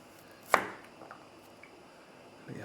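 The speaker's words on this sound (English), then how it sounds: "this one I'll actually even cut into a couple smaller pieces to get that nice flat edge on" A knife cuts garlic cloves into smaller pieces on a board, making one sharp, close chop followed by faint small taps in a quiet room.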